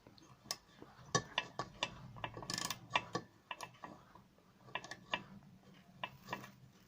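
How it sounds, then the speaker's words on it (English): Socket wrench undoing bolts on a Briggs and Stratton petrol engine, giving irregular ratcheting clicks and metallic taps, close and moderately loud, with no talking. "I'm going to undo the bolts."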